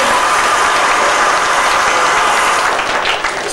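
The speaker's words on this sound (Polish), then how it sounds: "Duże brawa dla pani młody." Wedding guests applaud the bride in a loud, dense burst of steady clapping that fills the whole stretch, easing slightly near the end.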